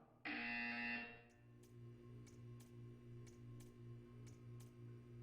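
A loud electronic buzzer from the video game Portal 2 sounds for about a second, then a steady tick-tock of regular clicks follows over a low hum.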